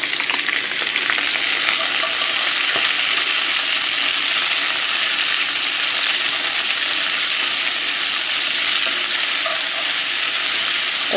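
Loud, steady sizzle of peppers and onions frying in a skillet beside browned smoked beef sausages, continuous and close with faint stirring clicks and no talking.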